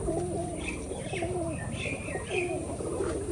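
Pigeons coo softly in repeated throaty phrases, several birds close by on a rooftop, with a few light chirps in a quiet setting.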